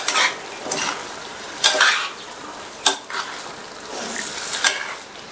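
Raw banana masala being stirred in a pan, with several spoon scrapes and clinks against the metal over a soft sizzle, close and clear with no talk.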